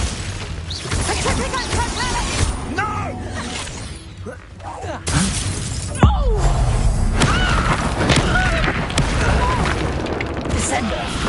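A Glacius ice spell from a Harry Potter game fires amid a barrage of magical effects: whooshes, booming impacts, shattering crashes and thuds, with shouted voices mixed throughout.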